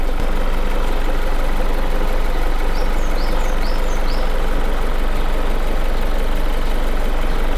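The engine of a Range Rover Sport PHEV P400e plug-in hybrid runs with the hood open: a steady, even idle hum close by with no change in rhythm. A few faint chirps sit in the background.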